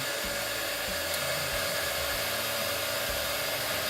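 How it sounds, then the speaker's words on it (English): A heat gun blows a steady, loud rush of hot air with a constant motor whine, unbroken throughout, gently heating parts of a Mego-scale Stormtrooper figure. "Let me get my heat gun."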